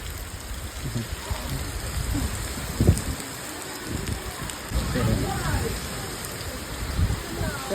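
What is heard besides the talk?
heavy rain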